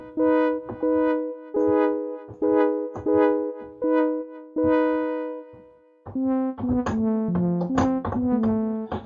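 A brassy synthesizer plays sustained chord stabs in a steady rhythm, then shifts into a busier run of punchy notes, loud and alone.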